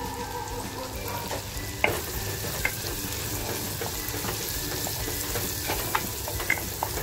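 Chopped onion hits hot oil with asafoetida and turmeric in a pan, giving a steady soft sizzle with occasional sharp pops and stirring clicks, faint and close with no voices.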